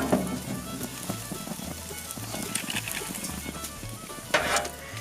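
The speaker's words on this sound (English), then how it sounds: "I'll let you hear that sizzle." Meat just pulled off a grill sizzling steadily, a dense crackling hiss that stays fairly loud and constant, with a low intermittent hum underneath and no talking.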